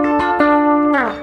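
Electric guitar with a vintage vibrato effect blended at a low 30% mix, a few chords rung out close and loud in a Western-style instrumental, the last one bending downward as it fades, no voices.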